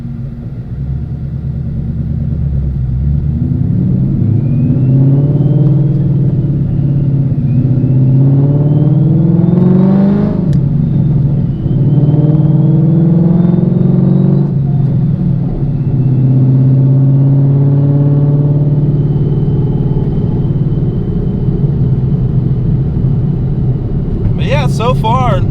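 A Whipple-supercharged 2016 Mustang GT with a T56 Magnum XL manual swap cruises at low speed, its steady engine drone rising and falling through gentle acceleration, loud and close from inside the car while someone talks.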